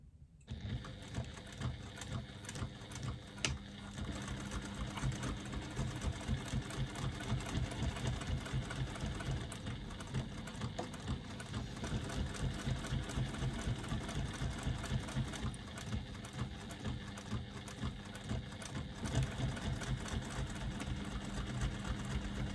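A sewing machine stitches fabric binding steadily and close, a continuous fast mechanical whirr and rhythmic needle chatter running without pause for over twenty seconds, with no one talking.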